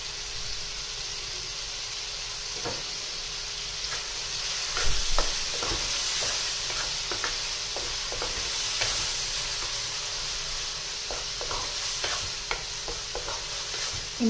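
Bagoong alamang, shrimp paste, sizzles steadily in a hot pan while being stirred, with repeated scraping clicks over a continuous frying hiss and no talk.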